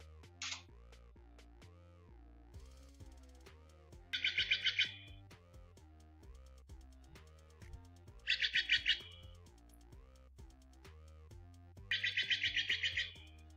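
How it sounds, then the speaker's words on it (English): Steller's jay calls play as a stream alert: three bursts of harsh, rapid chattering notes at steady intervals over continuous soft electronic background music. "this one is of my favorite blue birds. These are Stellar Jays."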